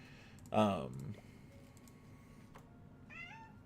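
A house cat meows twice in a room, first a loud close meow and then a softer, shorter one, with light computer keyboard clicking and faint background hum between them.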